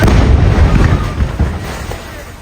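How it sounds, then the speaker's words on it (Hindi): An Israeli airstrike blows up a multi-storey building in a Gaza market: a loud, deep explosion rumbles and roars, with crackling debris and a heavy low boom that slowly fades over a couple of seconds. "इजरायल ने बहुमंजिला इमारत को धमाका कर उड़ा दिया।"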